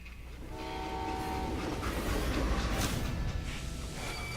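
Steam-era freight train in the Old West shooter Call of Juarez: Gunslinger, a loud rolling rumble with rail clatter and a sustained horn-like whistle tone, building steadily and heard alone without voices.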